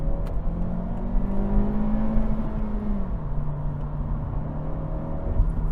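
A 2025 Honda Civic Si engine revs up and accelerates, its pitch rising then dropping back as the revs fall, close and fairly loud.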